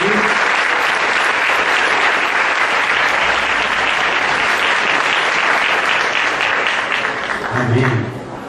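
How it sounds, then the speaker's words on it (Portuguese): Church congregation in Brazil gives a sustained round of applause during a triduum service, a thick even wash of clapping from many hands that fades near the end as voices return. "uma salva de palmas para o Senhor Jesus"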